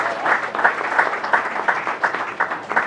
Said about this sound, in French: il faut l'applaudir un peu